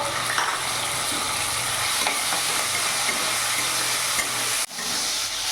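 Steady, loud sizzling and crackling of prawns frying in hot oil, continuous with a brief dip near the end.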